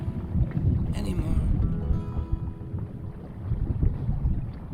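A small motorboat with an outboard motor crosses open water on the way to uninhabited islands, its low engine rumble mixed with wind buffeting the microphone and water splashing against the hull.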